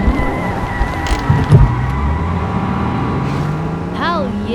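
A car in a video game revs and turns, its engine droning steadily throughout with a rising pitch sweep and brief skid-like noises, while voices talk over it.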